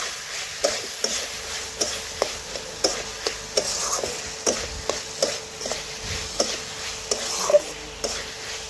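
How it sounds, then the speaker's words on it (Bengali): Potato and pointed gourd with chana dal and spices are stirred and fried, making a soft low sizzle broken by regular spatula knocks and scrapes against the pan, with no talking. "আবারও নাড়াচাড়া করে ভালোভাবে কষিয়ে নিব, যাতে মশলার কাঁচা গন্ধ চলে যায়।"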